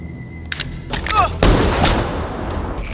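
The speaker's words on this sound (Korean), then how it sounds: "총소리에 정신을 차리는 에릭." A sharp gunshot cracks out amid a dense, noisy film shootout scene, followed by a sustained roar of rumbling chaos and scattered voices.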